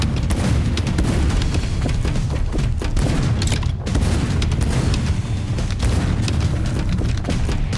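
Shotgun blasts in the video game Warhammer 40,000: Shootas, Blood & Teef ring out as heavy, booming shots in a steady rapid sequence, loud and dense across the whole stretch amid in-game chaos.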